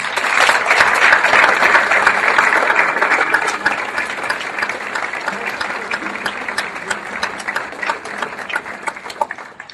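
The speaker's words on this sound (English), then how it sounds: "thank you for the applause" A lecture audience gives sustained applause to welcome a Jesuit speaker, loud and dense at first, then thinning and fading gradually toward the end.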